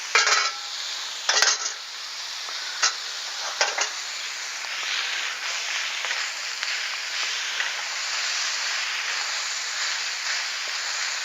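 Cabbage, carrots and onions stir-frying with oyster sauce in a hot pan, sizzling steadily and loudly throughout, with a few sharp utensil scrapes and clinks near the start.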